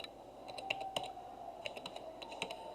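Quiet, close keystrokes on a computer keyboard, a short burst of separate clicks in an uneven typing rhythm over faint room hiss.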